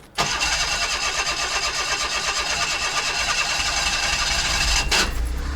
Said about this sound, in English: Now we can go ahead and start the engine.